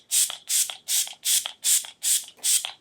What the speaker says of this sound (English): I do want to set my face with setting spray